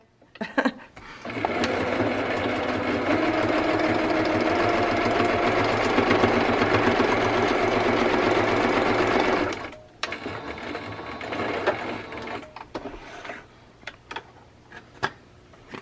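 A sewing machine runs in one long, steady buzzing stretch while stitching a fabric cover for a traveler's notebook insert, then stops and gives way to scattered handling clicks and rustles.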